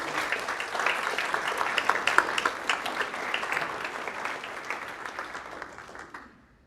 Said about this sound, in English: I'd like to give you a round of applause and say thank you